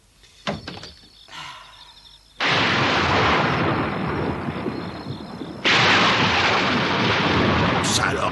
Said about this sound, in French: Ça alors, un orage.